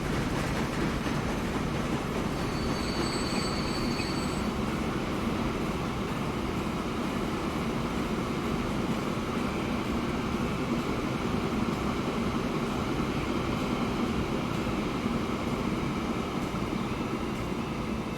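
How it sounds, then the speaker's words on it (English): A big freight train passing in the rail-building game Transport Fever, a steady low rumble of rolling wagons that holds at an even level throughout, with a short thin tone near the start. "Just gotta wait for this big old freight train to get out of the way."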